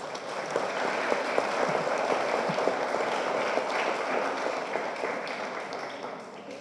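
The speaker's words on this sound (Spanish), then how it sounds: "Un fuerte aplauso, por favor" A crowd applauds steadily, a dense patter of many hands clapping that holds for several seconds before easing slightly.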